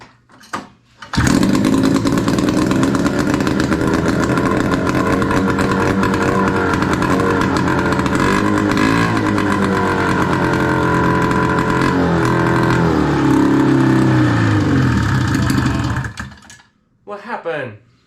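A 1971 Arctic Cat snowmobile that had sat unused for over 15 years runs up loud and close, its small two-stroke engine buzzing and revving unevenly for about fifteen seconds before cutting out, with a voice speaking over it.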